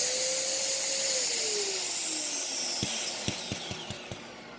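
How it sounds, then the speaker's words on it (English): A Dyson DC07 Low Reach upright vacuum cleaner from 2006 runs with a steady motor whine that slowly drops in pitch, then picks up debris with a series of sharp clicks and rattles near the end. "we'll see if the Dyson can clean up this mess"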